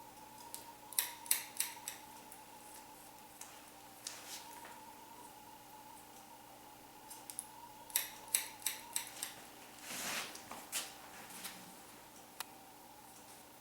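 Salon scissors snip hair during a short layered cut, with crisp close clicks in quick clusters separated by quiet pauses and a brief rustle of hair.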